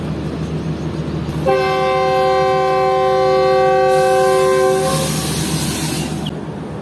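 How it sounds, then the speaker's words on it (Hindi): A long, loud train horn blares over rumbling railway noise, followed by a burst of hissing air as a passenger train, the Fareed Express, departs Lodhran Junction station in Pakistan. "3:50 पर ट्रेन डिपार्ट कर रही है"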